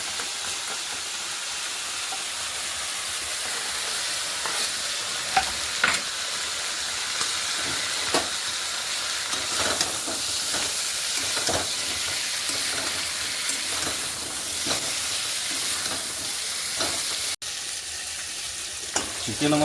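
Chicken pieces sizzle loudly in a pan of hot oil with a couple of green chilies, a steady hiss broken by scraping and clinks as the spatula stirs them through.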